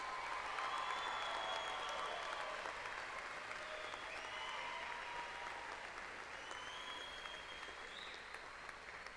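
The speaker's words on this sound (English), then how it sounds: "Let's give them one more round of applause." A large audience at Angelo State University's fall commencement applauds the graduating class of 2015 with sustained, dense clapping and scattered whistles and cheers. The sound stays steady and tapers slightly near the end.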